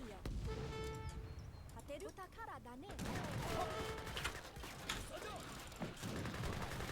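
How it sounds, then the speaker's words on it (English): Gatling guns in the real-time strategy game Age of Empires III: Definitive Edition fire rattling bursts amid ongoing battle noise, steady and fairly loud throughout the short stretch. "Try to shoot them out with your Gatlings."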